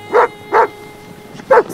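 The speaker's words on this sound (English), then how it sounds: "Jackson Rascal, what incredible dogs you all are!" Sled dogs barking in an animated children's podcast, three loud, close, separate barks with a short pause between the second and third.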